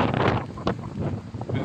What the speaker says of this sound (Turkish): Rüzgar çok kuvvetli.